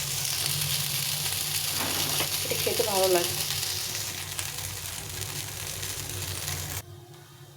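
A flattened rice (chira) chila pancake fries in a pan over slightly too-high heat, a steady crackling sizzle with a brief scraping stir. Someone speaks briefly, and the sound fades and cuts near the end.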